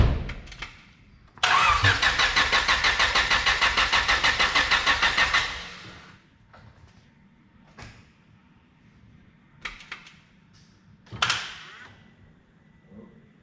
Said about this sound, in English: we're only going to run the car for just like 20 seconds or something, just so we can hear it